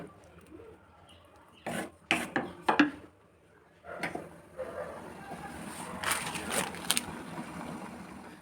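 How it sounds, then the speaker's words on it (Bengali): Dried kasuri methi (fenugreek leaves) is crushed by hand over a cooking pot, giving several brief, dry crackling rustles in bursts against a quiet kitchen background. "এবারে হাতে একটুখানি গুঁড়ো করে নিলাম কাসুরি মেথিটাকে"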